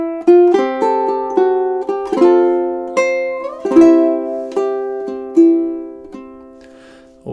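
Ukulele strumming the pickup bar and first two measures of a Christmas tune, a handful of bright ringing chords struck in a steady rhythm, each decaying before the next, close and alone.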